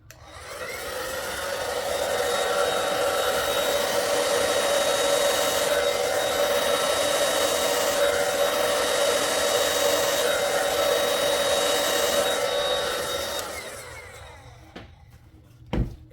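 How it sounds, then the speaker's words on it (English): A hair dryer on low, cool setting blows steadily with a constant whirring hum over acrylic paint, ramping up at the start and fading out near the end before a brief click. "now I'm going to come in with my Babyless hair dryer on low"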